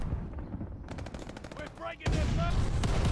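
Rapid bursts of MG42 machine gun fire in the video game Call of Duty: Vanguard, loud and dense, with a short pause before a heavier burst resumes near the end.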